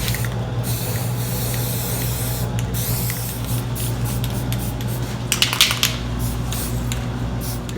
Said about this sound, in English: I'm going to paint the tires yellow.